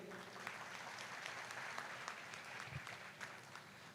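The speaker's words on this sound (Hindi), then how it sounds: "इस पे तालियां नहीं होनी चाहिए?" An audience claps at a Pakistani freelancers' association event, a faint, steady wash of applause that carries on evenly throughout, with no voices over it.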